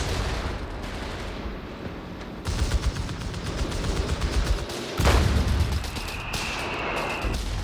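Sustained machine gun fire in a World War II strategy game, US Airborne paratroopers under attack, rapid rattling bursts layered with distant battle rumble and a heavier thump midway, continuous and fairly loud.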